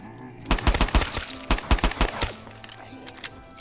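Rapid bursts of gunfire from the Manhattan Project gun in Black Ops III Custom Zombies, a Minecraft-themed gun game map, with sharp close shots firing in quick clusters and brief pauses between volleys.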